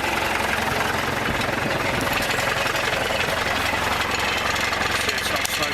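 A cold Isuzu 2.8 turbo diesel engine on a weak battery runs close by with a loud, continuous rattling clatter throughout.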